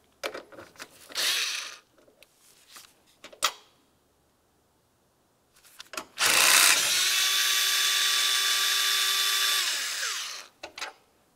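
A power tool, likely an impact driver or drill, backs out two 8mm-headed bolts beneath a trim panel on a 2012-2019 Ford Explorer; brief short bursts come first, then a loud, sustained whirring run of about four seconds, close up.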